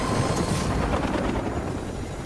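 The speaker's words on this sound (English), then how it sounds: "Oh, I see another helicopter." A helicopter in Fortnite makes a steady, loud, dense rotor roar with a throbbing wash of noise that holds at an even level throughout, with no speech.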